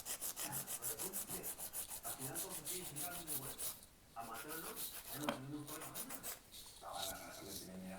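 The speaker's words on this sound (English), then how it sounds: "I like to file with my file flat onto the squared surface of the nail, and just go up and down" An acrylic nail is filed with a hand nail file in quick up-and-down strokes, giving a steady, close rasping scrape that pauses briefly twice before resuming.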